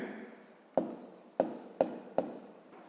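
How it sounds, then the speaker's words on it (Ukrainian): A pen writes on paper up close as a fifth-grade math answer is jotted down, with four crisp scratchy strokes at uneven intervals and some faint rubbing in between. "Пишемо тоді відповідь"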